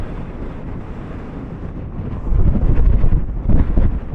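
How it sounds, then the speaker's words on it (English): Strong wind buffeting the microphone outdoors, a loud low rumble that swells and surges in gusts over the last couple of seconds. "It's getting a little bit too windy now"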